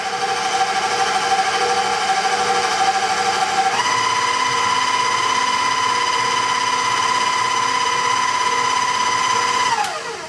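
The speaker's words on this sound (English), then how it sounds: "beat this on low. We don't want to crush the chocolate chips" Electric hand mixer beating cherry chocolate chip cake batter on low speed, a steady whirring motor hum that shifts up in pitch partway through and runs continuously before winding down at the end.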